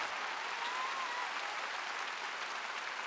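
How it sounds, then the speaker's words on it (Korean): A congregation at a large church revival meeting in a gymnasium arena applauds in a steady, dense, distant wash of many hands, faint and unbroken. "빨리 이 밤에 박수, 빨리 박수 쳐라."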